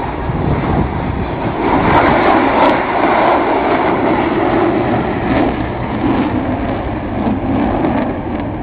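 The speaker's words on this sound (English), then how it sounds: "Dit is natuurlijk formatievliegen." Jet aircraft flying in formation at the Sanicole airshow roar loudly and continuously overhead, a broad, sustained engine noise that swells slightly and holds without pause.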